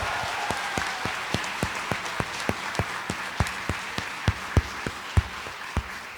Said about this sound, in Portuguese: Pode aplaudir, é isso.